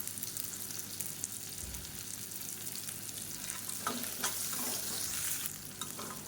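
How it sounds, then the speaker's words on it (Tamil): Small onions and ginger-garlic paste sautéing in a pan for poricha kuzhambu, a soft steady frying hiss with scraping stir strokes growing busier toward the end, fairly quiet and close. "இப்போ வெங்காயம், இஞ்சி பூண்டு எல்லாமே நல்லா வதங்கிடுச்சு"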